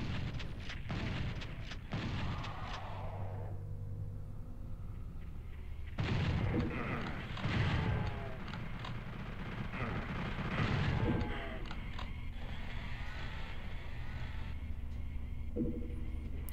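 Chaingunners in Final Doom's Plutonia open fire in a rapid, loud burst of game gunfire, joined by booming blasts and roaring explosions through the middle of the stretch, with steady droning game music underneath and no talking.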